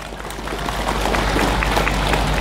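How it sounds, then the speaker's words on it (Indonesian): Steady applause from a crowd, a dense wash of clapping that holds at an even level throughout, with faint crowd noise mixed in. "semangat dan tepuk tangan untuk para santri"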